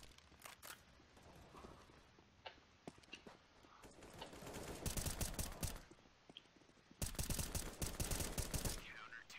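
Counter-Strike: Global Offensive gunfire, scattered single shots followed by two loud sustained bursts of automatic fire late in the sequence, over game ambience with some talking.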